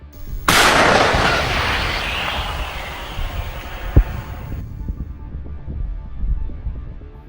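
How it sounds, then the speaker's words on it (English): A sudden loud artillery blast strikes a target, its roar decaying over several seconds before a sharp crack and lingering low rumble. "Ukrainian artillery units received the coordinates and initiated the strike."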